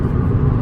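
A 2019 Honda Civic Sport with its muffler deleted, cruising in fourth gear at around 4,000 RPM, gives a steady, loud, low engine drone with a rumbling exhaust. It holds at an even level throughout with no voices over it.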